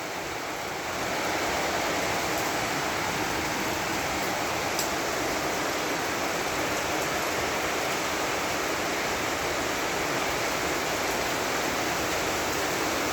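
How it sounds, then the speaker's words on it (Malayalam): Heavy rain pours steadily in Kottakkal, Kozhichena, a dense, even wash of broadband noise that holds without pause from the first second to the end, with no voices over it. "നല്ല മഴ കേട്ടോ, മാഷാ അല്ലാ മഴതാ."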